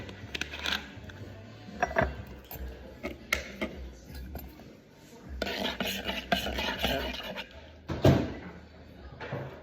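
Lemon lime sauce is stirred together in a bowl, with irregular scraping and clinking of a utensil against the dish, brief sharp taps at moments and a fuller burst of mixing partway through, close and moderately loud.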